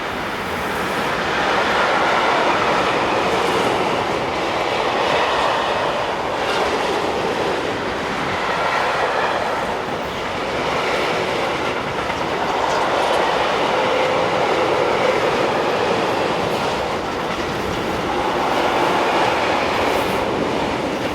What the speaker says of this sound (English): SNCB hired Class 186 number 2818 head south on loaded tanks from Antwerpen